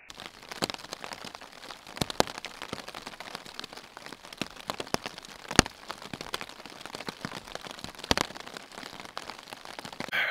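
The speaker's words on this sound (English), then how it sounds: "It was raining hard" Rain falls hard and steady on a tent at night beside a lake, a dense close patter with sharp individual drops cracking against the fabric throughout.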